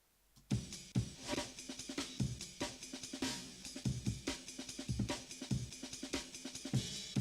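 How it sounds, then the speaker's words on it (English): A chopped funk drum break layered with a second break, playing as a busy, steady groove of punchy kicks, snares and bright cymbals, loud and continuous with no talking. "I've layered it with another break,"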